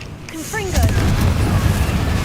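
A Confringo blasting spell is cast in Hogwarts Legacy, giving a sudden heavy explosive boom that rumbles on with a low roar, with speech-like whooshes at its onset.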